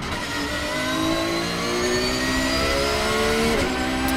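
A race car engine roars continuously at the Nürburgring in a video game, a loud sustained drone with rising and falling tones as the throttle eases slightly and picks back up, close and alone.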